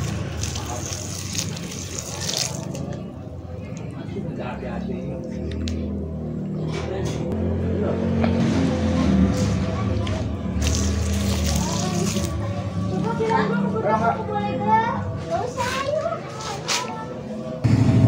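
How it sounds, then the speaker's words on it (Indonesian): Water splashes and trickles over newly planted mulberry stem cuttings during watering, a near, uneven sloshing that runs under intermittent talking. "kita langsung lanjut penyiraman guys"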